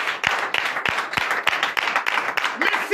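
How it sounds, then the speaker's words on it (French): A church congregation at a night prayer service in Comè, Benin, claps in a rhythmic, fairly sparse beat, each clap distinct, with voices mixed in over the clapping. "Donnez l'acclamation à notre Seigneur Jésus."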